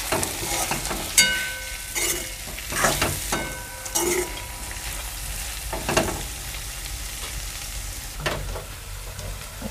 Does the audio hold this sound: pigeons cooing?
no